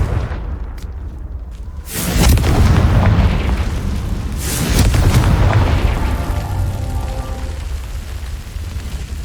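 A Confringo fire spell explodes in Hogwarts Legacy during a fight with a giant spider: two heavy, booming blasts, each followed by a long rumbling roar that fades out slowly.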